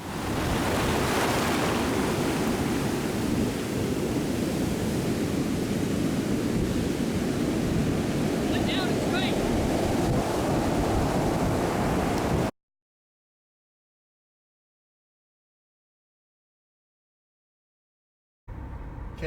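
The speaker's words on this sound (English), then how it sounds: "the wind and surf began to pick up" Strong wind and pounding surf from Hurricane Florence on the North Carolina coast roar loudly and continuously with a broadband rush, then cut to silence before briefly returning at the end.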